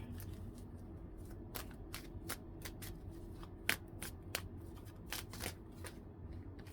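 Tarot cards shuffle close up in a quiet room, a fast series of soft riffling flicks and taps with no talking.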